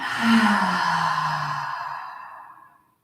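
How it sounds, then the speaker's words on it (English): A deep yoga breath: one long, close, airy exhale that starts strong and fades smoothly into silence over about three seconds. "let's take one final deep breath in and out all together"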